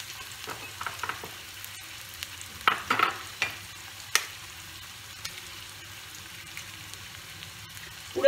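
Onions frying in a pan with chopped garlic and coriander leaves for fried rice: a low, even sizzle with occasional sharp stirring knocks and scrapes, close by and quiet, no talk.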